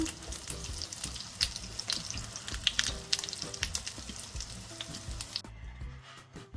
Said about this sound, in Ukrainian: Останні оладки досмажені